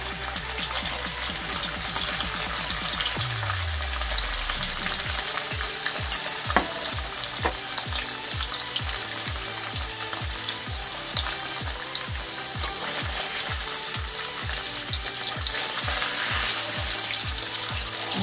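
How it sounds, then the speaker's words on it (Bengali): Paneer pieces frying lightly in white oil in a pan, a steady close sizzle running the whole time, with a dense train of stirring and scraping strokes in the second half and no one talking. "হালকা করে ভাজবো, বেশি লাল করে ভাজবো না, হালকা করে ভেজে নেব। সাদা তেলে একটু ভেজে নিচ্ছি।"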